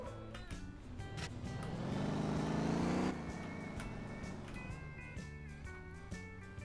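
A car engine in the PC driving game MotorTown revs steadily higher for about three seconds, then drops sharply as if shifting, settling into a steady hum under light game music.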